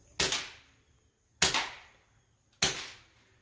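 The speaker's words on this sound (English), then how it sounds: "And we'll let it rip with subsonics through the pistol." A suppressed .22 LR pistol fires subsonic ammunition three times, each shot a sharp close crack with a short decay, spaced about a second apart, with no talk.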